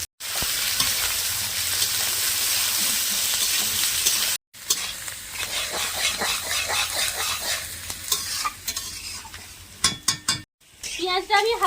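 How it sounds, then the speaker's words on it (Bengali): Chopped onions hitting hot oil for Basanti pulao, already tempered with bay leaf, dried chillies, whole garam masala and cumin, give a loud, steady sizzle, then a spoon stirs and scrapes the pan in uneven bursts close up. "এবারে দিয়ে দিচ্ছি পেঁয়াজ কুচনো"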